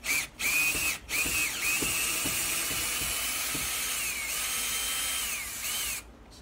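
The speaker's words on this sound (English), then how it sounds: "Take out the next screw." A power drill or screwdriver backs a long, soft brass screw out of a door hinge, whining steadily for several seconds with brief pitch dips and short gaps, close and fairly loud with no talking.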